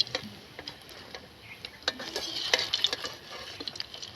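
Chicken pakoras with curry leaves frying in oil and being turned, soft sizzling under repeated light clinks and scrapes of a utensil against the pan, close and fairly quiet.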